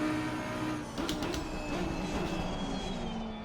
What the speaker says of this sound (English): I don't think that the M4 sounds bad. It just sounds like a vacuum cleaner.